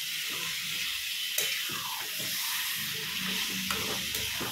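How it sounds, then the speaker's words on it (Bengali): Chicken skin and meat frying in a pan, with a loud, steady close sizzle and the wet scrape of stirring running throughout, with no talk. "দেখো সব মাংসগুলো দিয়ে দিয়েছি, দিয়ে ভালো করে একটু নাড়বো।"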